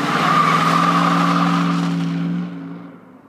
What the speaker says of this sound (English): it's got that traditional V8 growl emanating from its true dual exhaust system